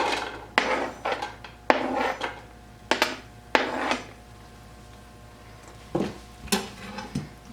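Diced celery tipped into a cooking pan for chicken rice soup, with several sharp clattering scrapes and knocks of a utensil against the pan in bursts, then a pause and a few more taps, close and without talking.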